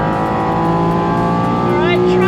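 A Porsche race car at Phillip Island circuit, its engine holding a loud, steady high-pitched drone with rising revs toward the end, heard from on board with no talk over it.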